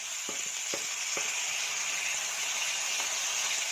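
Onion, garlic and tomato sizzle loudly as they sauté in a pan for chutney, a dense steady hiss with a few sharp spatula scrapes and clicks early on, close and alone.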